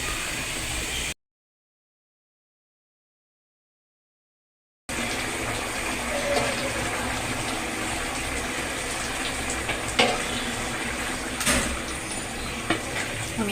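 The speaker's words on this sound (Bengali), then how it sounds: "মাঝে যাতে না লেগে যায় সেজন্য আমি একটু পর পর নাড়িয়ে দিব" Biryani in a pot is stirred with soft scraping and a gentle sizzle beneath, steady and close, with a silent gap early on and a few faint clinks.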